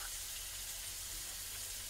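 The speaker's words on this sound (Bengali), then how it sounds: "লাল লাল করে এবার ভেজে নেওয়া হবে" Ginger garlic paste fries with onions in a pan, a constant soft hiss of sizzling oil without interruption.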